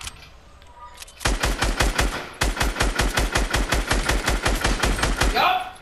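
Rapid automatic gunfire in a video game, aimed at a wall: a steady, loud string of evenly spaced shots running almost unbroken for several seconds after a brief quiet lead-in.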